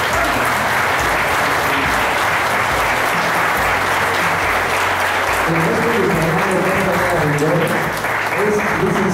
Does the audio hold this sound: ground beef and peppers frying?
no